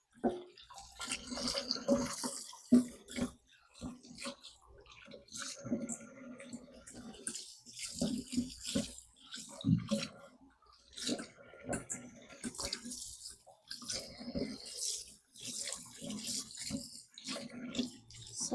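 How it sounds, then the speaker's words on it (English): Beef meat from a stock pot rinsed under a running kitchen tap, with irregular splashing, trickling and handling noises in bursts, close and moderately loud. "And rinse this meat"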